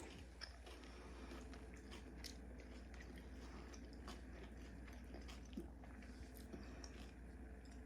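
Close-up biting and chewing of a Hawaiian chicken salad with pecans and celery, soft squishy mastication with small crunchy bits, steady and quiet with no talking.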